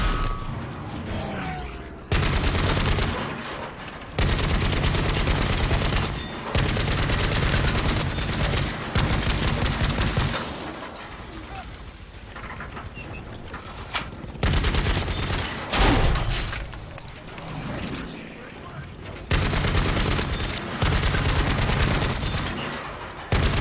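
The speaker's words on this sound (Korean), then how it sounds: "그만 좀 쏴라 진짜" Sustained gunfire from Battlefield V in an assault on Iwo Jima, loud bursts of automatic rifle and machine-gun fire with occasional booms, broken by short pauses over a long stretch of battle.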